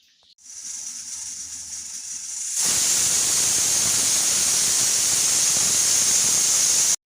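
A pressure cooker cooking rice and dal with greens lets out a loud, steady hiss of steam that suddenly grows stronger and continues without a break, close by with no talking.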